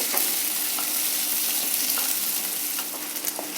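Onions and fenugreek seeds fry slowly on a low flame for a summer onion saaru, giving a soft steady sizzle with faint crackles and a few light stirring taps, with no talk.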